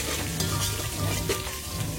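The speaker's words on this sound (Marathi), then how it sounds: "लसण आणि अद्रक छान तडतडलं, आपला फोडणी छान तयार झाली" Crushed garlic and ginger sizzle in hot oil as a tempering for a traditional Bhogi vegetable dish, a steady, close crackling hiss lasting two seconds with no voices.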